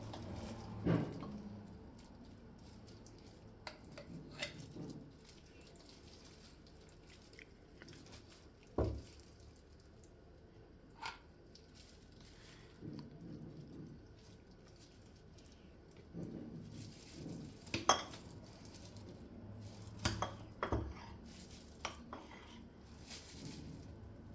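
Spoon scooping whipped cream into a muffin makes faint scrapes and clinks of metal on a dish, with soft squishy taps scattered irregularly over a quiet background.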